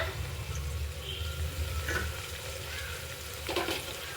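Ginger-garlic paste and mint fry in a pan for tomato bath, giving a soft continuous sizzle with a low steady bed, and a couple of brief scraping stirs near the middle and the end.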